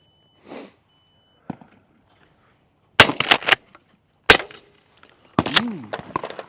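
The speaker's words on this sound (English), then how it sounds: "I'm going to do a pair." Mossberg 500 Hushpower 12-gauge shotgun firing a pair of shots, the second a subsonic load: sharp reports with short echoes, widely spaced, among scattered handling clicks and some outdoor background noise.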